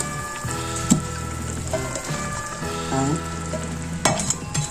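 Beef and mushrooms frying in a pan, a steady sizzle under a low background hum, with a few sharp clinks and scrapes as the stir fry is moved around, no talking.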